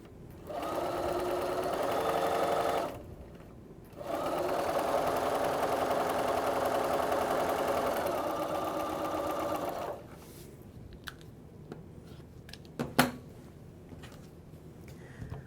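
A sewing machine stitches quilt block units for a lattice square block in two close, steady runs with a brief pause between, followed by quiet clicks and a few sharp taps of fabric handling.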